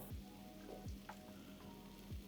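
Spice paste for kaju malai curry cooks in oil in a pan with a soft, steady sizzle and faint spattering crackles, quiet and unbroken throughout.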